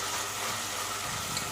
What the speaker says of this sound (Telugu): ఇది ఇప్పుడు పచ్చివాసన పోయేంత వరకు వేయించుకుందాం